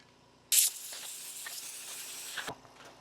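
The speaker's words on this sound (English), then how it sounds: "We'll go blow these off with an air compressor." An air compressor nozzle blows off cleaned Nintendo controller parts in a single loud, close hiss lasting about two seconds, then cuts off sharply.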